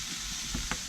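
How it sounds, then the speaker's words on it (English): Beef, onions and garlic fry in a pan with a steady, soft, continuous sizzle and a couple of faint stirring clicks. "Fry the beef first, take it out, and then fry the onions and the garlic."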